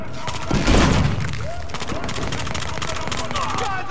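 Rapid bursts of submachine gun fire in Battlefield Hardline, dense crackling shots with a heavy boom early on, continuing in quick volleys throughout at close range.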